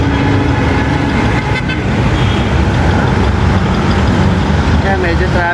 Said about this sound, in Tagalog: Kaya medyo traffic na.